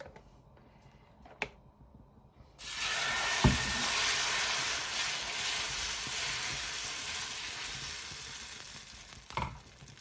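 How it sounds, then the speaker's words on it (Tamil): Dosa batter hits a hot pan and erupts into a loud, steady sizzle that fades gradually over several seconds, preceded by quiet kitchen clinks and a sharp tap during the frying. "ஒரு தோசை ஊற்றிடலாம்."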